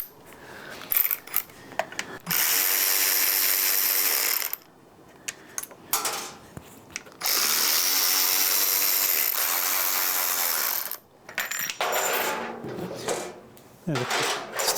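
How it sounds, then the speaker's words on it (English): A power tool whirs in several sustained bursts, each a few seconds long, while taking screws out of a Lectric ONE e-bike. Short pauses with small clicks and handling noise fall between the runs, and brief talk can be heard. "We're going to use some power tools on this thing."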